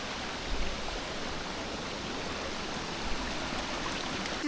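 A jungle river crossing with a stream rushing in a steady, close, broadband wash, continuous and even with no voices over it.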